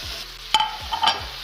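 Steak sizzling as it sears in a hot pan after being flipped, a steady frying hiss with a couple of brief sharper crackles and scrapes, close and fairly quiet with no talk.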